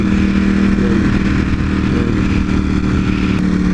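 A V4 motorcycle engine pulls hard in second gear on an open road, loud and close. Its rising tone holds steady and breaks off briefly in quick gear-change dips.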